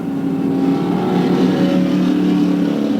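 Race car 212 accelerates hard during a 1991 race, its engine a loud, close, sustained roar with rising and shifting tones over three seconds.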